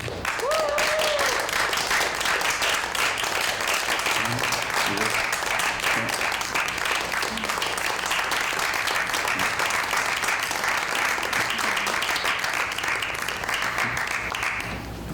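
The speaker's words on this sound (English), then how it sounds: "give them a round of applause." A crowd breaks into sustained, loud applause that carries on evenly for a long stretch, with a brief voice heard near the start.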